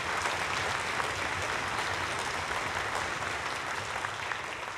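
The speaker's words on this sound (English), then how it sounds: "Can we give these folks a round of applause," An audience at a junior high band camp performance claps steadily with dense applause that holds at an even level throughout, with no voices over it.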